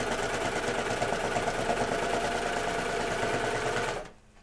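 A sewing machine stitches Hudson pants in a continuous close motor hum for about four seconds, then stops abruptly into near silence.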